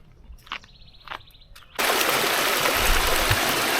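Steady broadband rush of river water at a gold prospecting spot, starting abruptly partway through after quieter handling noises and clinks, then continuing loud and constant to the end.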